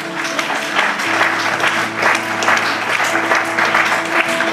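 A church congregation claps together during an evening worship service, a dense, even burst of applause filling the room with some faint voices and a sustained organ-like tone beneath.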